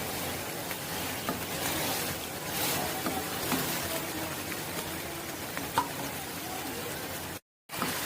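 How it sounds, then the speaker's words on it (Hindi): Chicken is fried bhuna-style in a pan, giving a steady soft sizzle with occasional stirring knocks and scrapes, fairly quiet and close, with a short drop to silence near the end. "अच्छी तरह से भून लें यहाँ पर कि आपके चिकन का जो है वो कलर चेंज होना चाहिए।"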